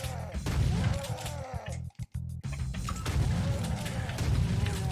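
Rapid, continuous gunfire from chaingunners in the Doom video game, a dense rattling barrage with booming impacts that briefly drops out before resuming at full intensity.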